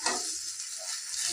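Tilapia fish frying in a pan give off a steady, close, bright sizzle of hot oil that continues without a break and with no voices.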